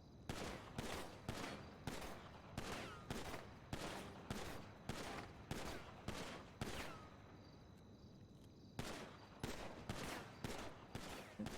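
Rapid gunshots at a shooting range in GTA V (NoPixel), loud and close, fired in quick bursts of evenly spaced shots with a short pause before a final volley.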